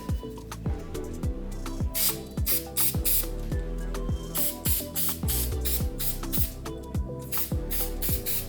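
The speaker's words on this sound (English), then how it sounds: "we lightly sprayed it with a spray glue" Rapid, rhythmic bursts of hissing spray glue with sharp clicking from the nozzle, close and fairly loud, repeating steadily with no talking.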